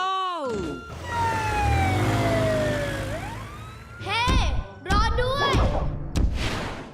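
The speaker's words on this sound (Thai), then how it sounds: "เสียงไซเรนไม่ได้เป็นแบบนั้นซะหน่อย" A police siren in the cartoon Paw Patrol, its wailing tone gliding slowly downward, followed by excited cartoonish voices talking quickly in Thai.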